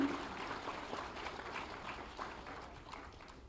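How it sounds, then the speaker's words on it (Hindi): Applause from the audience at a Lucknow government appointment ceremony for naib tehsildars under UP Mission Rojgar, led by Chief Minister Yogi Adityanath; a faint, distant, steady wash of clapping runs throughout. "जोरदार तालियां सभी के लिए, उज्जवल भविष्य के लिए"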